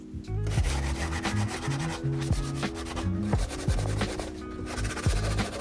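A wooden coffee table, a roadside find, getting a scuff sand across its body: continuous rough rubbing strokes of abrasive on wood, close and steady with brief pauses between passes.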